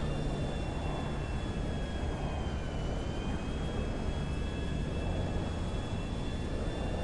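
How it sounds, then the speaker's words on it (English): Steady, loud engine roar of an airplane coming in to land with gear down in a console video game, a dense continuous drone with faint tonal whines above it. "Landing, yeah, gear down. We'll land this plane."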